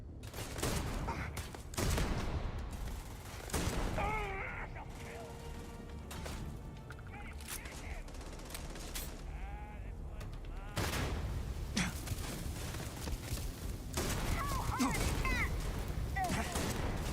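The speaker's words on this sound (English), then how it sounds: "You guys are shooting at things that aren't even there." Rapid bursts of gunfire in the sci-fi video game Starfield, coming in loud clustered volleys with short gaps, while people talk over the shooting.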